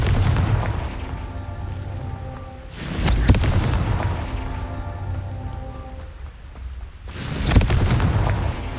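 Confringo blasting spell from Hogwarts Legacy, heard as two loud booming explosions about four seconds apart, each a sharp broadband blast with a rumbling tail over a low game soundscape.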